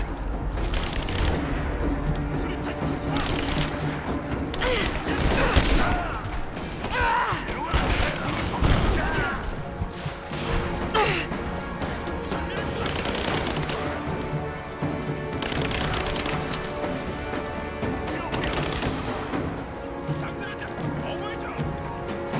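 Grenade explosions and bursts of gunfire in Rise of the Tomb Raider on Xbox One, with repeated crashes and booms layered under continuous game sound, while a person talks throughout.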